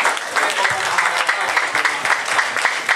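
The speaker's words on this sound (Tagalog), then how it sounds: "Lahat pumalakpak sa Panginoon." A church congregation claps to praise the Lord during a communion service, dense sustained applause with many hands at once, loud and close, with some voices mixed in.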